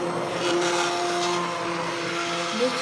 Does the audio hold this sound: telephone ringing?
no